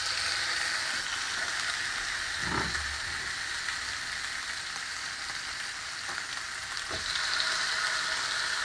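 Two big crappie fillets sizzle on a non-stick George Foreman grill, a steady bright hiss with a couple of soft low thumps and clatters, close and continuous with no talk.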